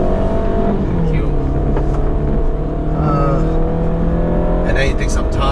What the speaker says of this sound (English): it takes some time to get back your speed, because it's a naturally aspirated engine